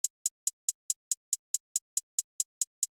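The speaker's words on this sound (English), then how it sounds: "The next thing we're going to be adding in is the hi-hat." A programmed FL Studio hi-hat in a trap beat ticks alone in an even, crisp stream of about thirteen short bright hits over three seconds, each one identical and cleanly spaced with silence between.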